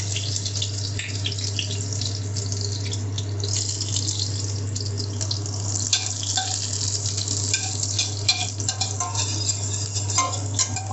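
Green chillies and garlic fry with curry leaves and fennel seeds in hot oil in a pan, giving a steady close sizzle with stirring clinks and a constant low hum under it, no talk.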